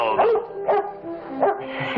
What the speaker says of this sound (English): Yeah. Good old dog here.